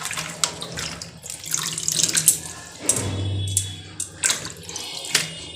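Spinach leaves being washed under a running tap in a kitchen sink, splashing water with handling swishes and drips, gushing louder in the middle, close and without speech.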